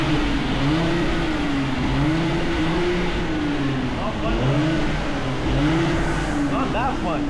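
A car engine in Tokyo revs up and down in repeated swells, loud and close, with voices talking over it.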